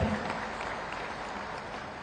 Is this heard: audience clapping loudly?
yes